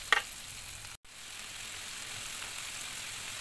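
Sambal terasi chili paste stir-fried in a pan, giving a steady broadband sizzle throughout with one sharp clack near the start and a brief dropout around one second; no voices.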